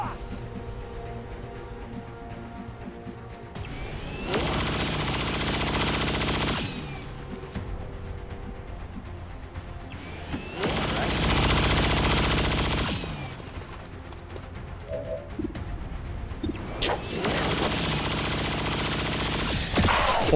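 Gunfire in the XCOM 2 War of the Chosen video game, long sustained bursts of loud automatic fire in three separate volleys over quieter ambient game sound, with brief talking in between.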